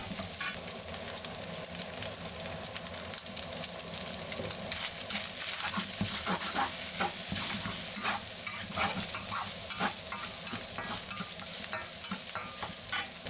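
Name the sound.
ground meat stir-frying in oil with chili bean sauce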